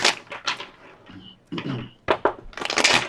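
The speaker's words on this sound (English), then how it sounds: "Two more shuffles." A deck of tarot cards being shuffled by hand close up, several bursts of crisp riffling and sliding card noise, the later shuffles louder and denser, with no talk over them.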